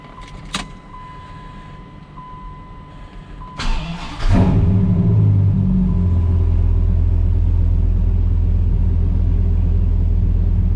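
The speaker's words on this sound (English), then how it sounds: "let's see if the truck is going to start" A 2004 Dodge SRT-10 Viper truck starts up: after a few clicks and a jangle of keys, the starter cranks briefly and the engine catches, settling into a loud, steady, deep idle rumble.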